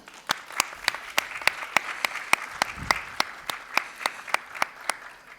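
A conference audience claps steadily, with sharp individual claps standing out in a regular rhythm over a bed of scattered applause, fairly close.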